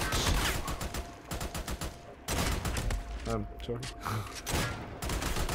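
Close, loud bursts of gunfire from Army of Two, coming in rapid volleys with short gaps, while someone talks briefly over the shooting.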